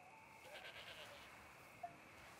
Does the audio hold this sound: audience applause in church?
no